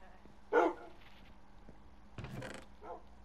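A dog gives a short bark close by, then a second rougher burst of yelps a moment later, over a quiet indoor background.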